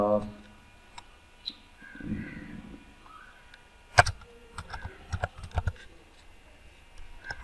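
Keys on a computer keyboard clatter as a company name is typed into a TikTok agency ad account setup form. Irregular, fairly close clicks come in a quick burst with a few scattered taps, over a quiet room.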